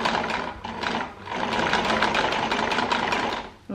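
Pedal-driven sewing machine stitching the front seam of a fabric face mask, a fast, steady mechanical whirr running loud and close for a few seconds before slowing and stopping.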